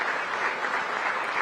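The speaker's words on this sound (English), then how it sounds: "may I request the audience to just give us 2 rounds of applause, one for Angola" Steady applause from a large audience at the 44th SADC summit of heads of state, a dense continuous clapping wash held at an even level for the whole short stretch, with no voices over it.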